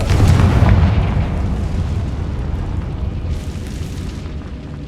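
A Confringo fire spell from Hogwarts Legacy detonates in a loud, deep blast that rumbles and slowly decays, with a faint crackle rising near the end and no speech over it.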